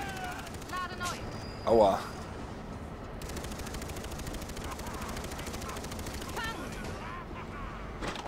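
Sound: gunfire in video game Far Cry 3

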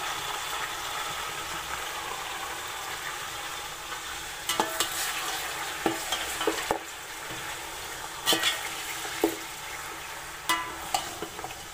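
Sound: mutton frying and stirred with browned onions in pot

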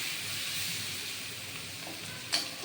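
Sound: prawn heads frying with onion and tomato

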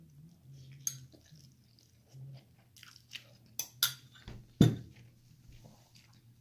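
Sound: slurping and chewing noodles

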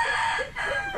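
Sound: chickens

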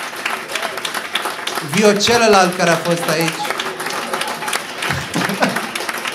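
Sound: audience applause at stand-up comedy show

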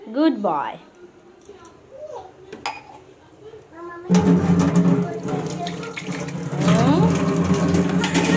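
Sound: tap water running while washing

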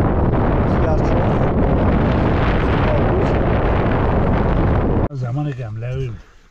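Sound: strong wind

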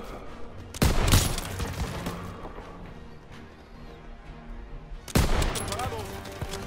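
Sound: gunfire in Call of Duty WWII video game

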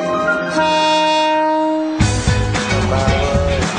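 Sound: train in Thailand

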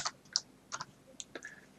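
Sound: typing on a computer keyboard

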